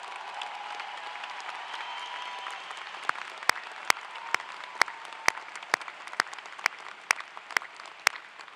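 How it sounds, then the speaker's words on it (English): Audience applause for faculty and staff at a university undergraduate commencement, a soft sustained patter of many hands that fades into a handful of sharp, spaced individual claps. "if we could give them a round of applause for their good work and support."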